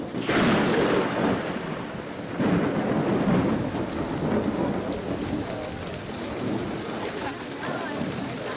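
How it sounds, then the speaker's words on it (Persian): Steady rain falling with rolling thunder, loud and continuous, with deep rumbles swelling near the start and again after a couple of seconds, and rain hiss throughout. "باران را بنگر که قحطی را از فدان میزداید"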